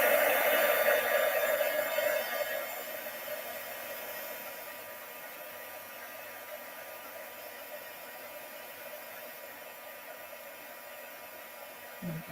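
A heat tool blows a steady, loud rush of hot air over gold embossing powder on dark cardstock, easing slightly in level after the first few seconds and continuing without talk.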